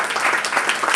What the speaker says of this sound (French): est-ce qu'on peut applaudir pour elle?